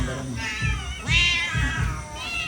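A cat, an elderly one called Lolo, meows repeatedly at dinnertime over cat food, with drawn-out, close and fairly loud calls in a quick series.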